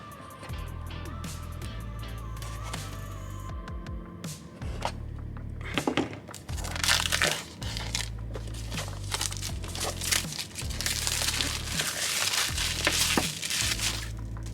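Packaging for an Asus device is cut open, giving irregular crinkling, tearing and crunching bursts of cardboard and plastic that grow louder and more frequent toward the end, with no talking.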